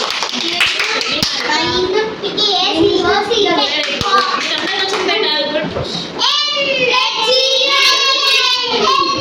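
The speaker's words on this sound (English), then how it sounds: "Clap for Dolly." Children in an English classroom clap together for a classmate, steady group applause mixed with kids' voices and a teacher speaking, the claps continuous and close throughout.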